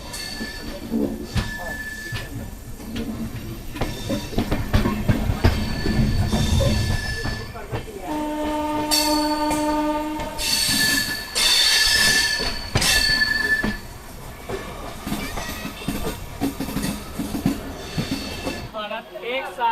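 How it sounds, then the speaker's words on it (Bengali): An Amrit Bharat Express train pulls out of Santragachi station, its wheels squealing and screeching in long sustained tones over rumbling rail noise, with a crowd on the platform nearby. "3:20 কিন্তু ট্রেন ছাড়লো এই সাঁতরাগাছি থেকে"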